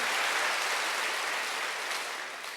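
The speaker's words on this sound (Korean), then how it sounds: "박수 세게 쳐요" A congregation at a Sunday church service claps hard, a thick, continuous roar of applause from many people that gradually tapers toward the end.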